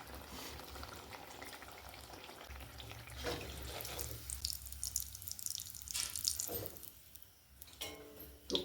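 Pumpkin malpua batter frying in hot oil in a village kitchen, a soft steady sizzle with scattered drips and splashes, close and fairly quiet, with no talking.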